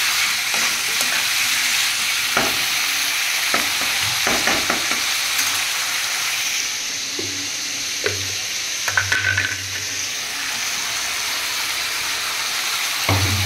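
Liver pieces sauté in a pan with a loud, continuous sizzle, while a utensil stirs and scrapes at intervals, giving occasional knocks and clatters over the frying.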